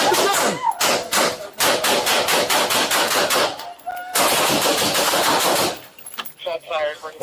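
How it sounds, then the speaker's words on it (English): A dense burst of rapid gunfire from police confronting an armed hostage-taker, loud and close, with a second volley after a short pause, followed by scattered clatter and shouting. "Shots fired."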